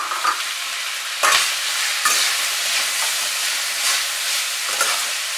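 Bell pepper, green chilli and cabbage are stir-fried for chowmein, a continuous close, loud sizzle broken by a few scraping stirs, with no voices.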